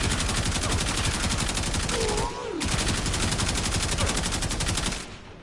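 Rapid rifle gunfire from the Kuva Karak in Warframe, a dense continuous burst of shots with a brief pause midway, loud and close, then cutting off near the end.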